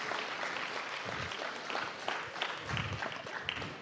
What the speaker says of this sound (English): Can we get a big round of applause for the volunteers?